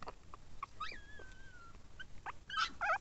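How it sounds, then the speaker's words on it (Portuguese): A Pinscher puppy vocalizing close by, with soft whimpers, a drawn-out high whine and short yips, the sounds getting louder toward the end. "Tá rosnando, bebê?"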